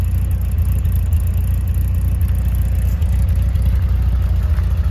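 A 1973 MG B roadster's engine runs steadily at idle, a loud, even low rumble and whir held close throughout.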